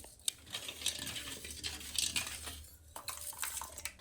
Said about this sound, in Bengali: এই দুধের সঙ্গে চিনিটাকে ভালো করে গুলিয়ে নিতে হবে আগে।